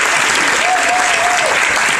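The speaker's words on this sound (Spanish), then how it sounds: "Un gran aplauso para el señor Sandra" A crowd at a fan meeting applauds illustrator Tsuneo Sanda, a loud, continuous wash of clapping with a voice briefly audible above it.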